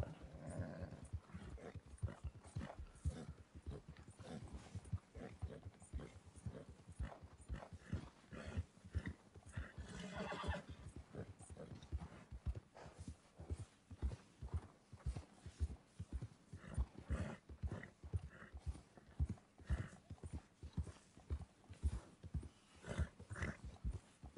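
Horse hooves in Red Dead Redemption II: a steady, fairly quiet rhythmic thudding of hoofbeats throughout, with a brief breathy snort or whinny partway through, and no talking.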